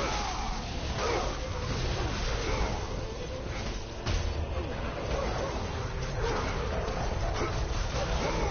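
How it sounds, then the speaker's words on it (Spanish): Dog enemies bark, yip and growl in the video game God of War III Remastered, repeated snarls and barks amid dense game combat noise, with a voice talking over parts of it. "Malditos perros."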